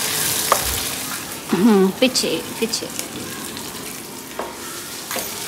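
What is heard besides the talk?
tadka: cumin, ginger and onion frying in hot oil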